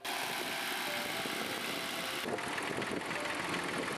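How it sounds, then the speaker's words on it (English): A mini round baler runs steadily with a dense, busy mechanical clatter and drone, moderately distant and unbroken throughout, with no voices. "Mini round baler."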